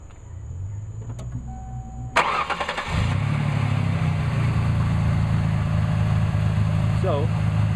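A Ford Taurus with the 3.0 engine and automatic transmission cranks and catches, then settles into a steady, fairly loud idle close by after a brief starter whir.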